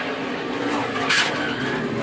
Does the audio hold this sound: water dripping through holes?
no